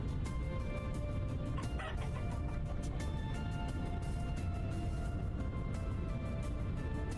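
Hens clucking in the farming survival game Vintage Story, a steady low flock murmur of clucks with a few brighter calls around the two-second mark, set against constant background ambience.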